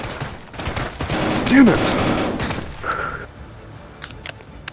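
Bursts of rapid gunfire from a VR shooter game in a busy, loud match, with players shouting over the shots.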